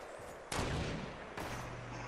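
Gunfire in the battle royale game Fortnite: two sharp broadband blasts about a second apart, each followed by a sustained rumbling tail, fairly loud and close, with no talk over them.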